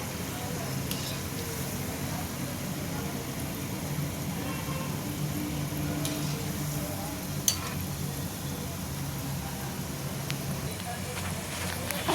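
Farali gulab jamun frying in hot oil, giving a continuous dense sizzle with small crackles and bubbling that runs steadily and evenly throughout.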